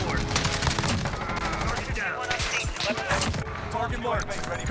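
Rapid automatic fire from an AUG rifle in the Modern Warfare video game, loud, dense bursts running throughout with someone talking over it.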